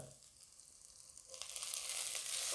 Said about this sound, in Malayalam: ചെറുള്ളി ഒന്ന് അത്യാവശ്യം ഒന്ന് വഴറ്റി കെട്ടി കഴിയുമ്പോൾ അതിലേക്ക് നമ്മുടെ തക്കാളിയും കൂടെ ആഡ് ചെയ്ത് കൊടുക്കാവേ.